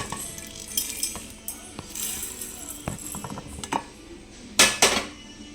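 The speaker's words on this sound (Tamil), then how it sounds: "இப்போ வந்து மிக்சி ஜாரில் போட்டுக்கலாம்" Roasted black pepper and cumin tipped into a mixer grinder jar for a pepper-cumin kuzhambu, heard as a run of light clinks and scrapes of utensil against metal, with two sharper clattering hits near the end, close and moderately loud.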